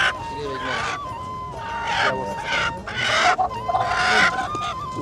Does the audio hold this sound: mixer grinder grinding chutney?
no